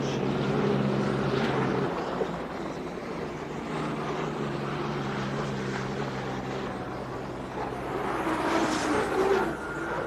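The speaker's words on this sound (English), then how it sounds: "Both the airplane and the boat use a jet engine to make it go." Steady roar of a jet-powered boat and airplane with a propeller-like drone, a low hum dropping away early and a brief swell near the end.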